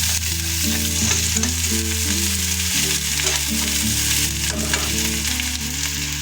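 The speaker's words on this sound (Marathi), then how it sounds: "कांदा बारीक कापून घेतलेला आहे तो टाकायचा छान असं तेलात तळून आहे लाल होईपर्यंत" Finely chopped onion fries in oil in a pan for spiced egg rice made from leftover rice. A constant bright sizzle plays beneath steady background music.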